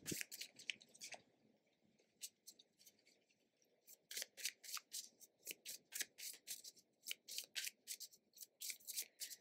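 Tarot cards being shuffled by hand: quiet, close riffling and sliding, with a short pause and then a run of rapid, regular card snaps, soft overall and without voices.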